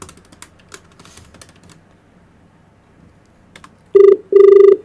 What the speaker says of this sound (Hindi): फोन कर दिया, नंबर मिलाओ